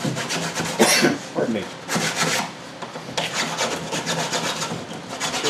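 Sandpaper glued to little sticks rubs along wooden edges of a Nymph build, a series of close, raspy strokes in short bursts, with a brief spoken interjection.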